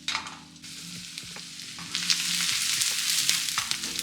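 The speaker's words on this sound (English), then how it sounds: "I'm going to saute this off until it's fragrant and just starting to brown" Aromatics sauté in a pan for a Jamaican brown stew fish, sizzling steadily with scraping stirs and clinks, the frying growing louder and brighter halfway through.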